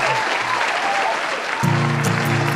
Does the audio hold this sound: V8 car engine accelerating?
no